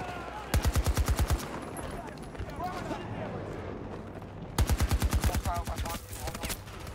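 In the Battlefield video game, two rapid bursts of automatic gunfire ring out, each a quick string of sharp shots several seconds apart, with a player talking over the quieter stretches.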